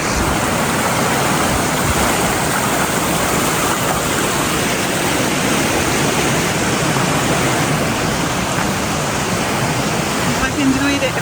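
Rushing water of a stream flows beside natural hot springs in British Columbia, a loud, steady broadband wash that never lets up and fills the whole scene at close range.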